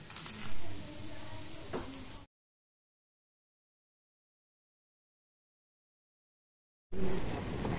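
A Pahadi dish fries in desi ghee in a pan, a close steady sizzle heard in two short stretches separated by several seconds of dead silence.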